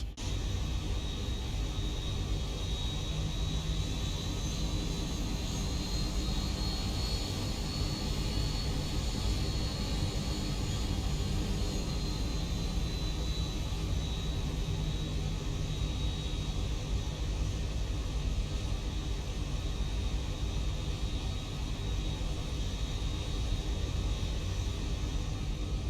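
Zibo Boeing 737-800 taxiing out for runway 30 at Davis–Monthan AFB in X-Plane 12: a steady, even jet engine roar and broadband hiss hold at constant loudness throughout, with a faint high whine above.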